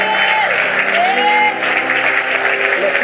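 A church congregation applauds to acclaim God during a worship service, sustained loud clapping with a melodic tone drifting through it.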